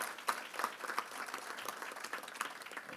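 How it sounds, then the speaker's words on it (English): Audience applause for the State's Attorney of Prince George's County, a moderate steady patter of many hands clapping in a hall that continues throughout. "Can we give her a round of applause?"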